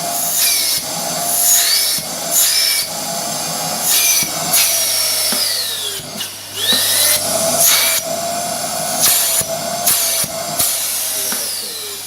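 A vacuum cleaner runs with its suction pipe attached, a steady loud whine and airflow roar with repeated brief dips and surges as the pipe opening is covered and uncovered, no voices.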